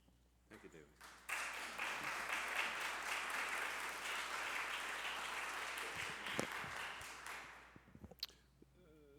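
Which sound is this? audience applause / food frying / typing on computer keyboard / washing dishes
audience applause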